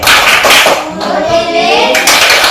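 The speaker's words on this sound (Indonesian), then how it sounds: "berdiri semua, kita tepuk terima kasih" A classroom of children stands and gives a thank-you clap, a patterned clapping routine loud and close, mixed with young voices chanting along.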